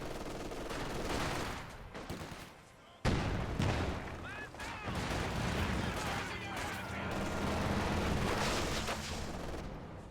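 Battle sounds from the strategy game Company of Heroes mix bursts of machine gun fire with heavier artillery-like blasts, a dense loud clatter that starts with a sudden crack, under a commentator's voice.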